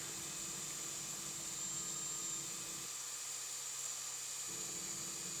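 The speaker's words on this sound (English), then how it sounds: "I'm actually going to do it with just a normal hand drill here." A steady high whine from an ordinary hand drill boring holes into a contact wheel, continuous and fairly faint, with the low rumble dropping out briefly partway through.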